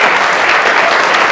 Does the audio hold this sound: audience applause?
yes